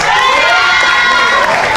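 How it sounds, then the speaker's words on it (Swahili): A crowd of schoolchildren at a band event in Kerugoya, Kenya cheers loudly for a young performer, with shrill, sustained shouting close by that fills the whole moment. "wapi makofi ya Ola?"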